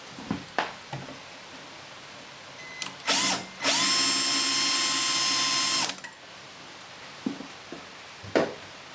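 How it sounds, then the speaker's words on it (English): A power drill whirs into a UPVC door in two bursts, a brief spin then a longer steady drilling run of about two seconds, with scattered clicks and handling noises around it. "I'm going to use the hinge sighting drill"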